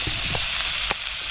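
Onions sautéed with chili powder sizzle steadily in a pan for a fish curry, a loud close hiss with a few soft clicks of a stirring spoon.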